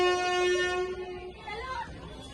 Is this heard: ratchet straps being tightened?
no